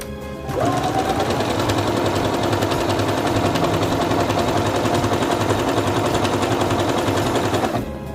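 A Singer Quantum Stylist 9960 sewing machine runs an elongated decorative stitch, its needle chattering in a fast, steady mechanical rhythm. The close, loud run starts and stops cleanly.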